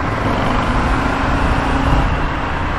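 A 2023 Indian FTR R Carbon motorcycle is ridden on the road, giving a continuous loud, even roar of engine and rushing wind with no pauses.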